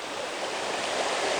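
A waterfall flows in a landscape, a steady, loud broadband rush that holds constant without pause.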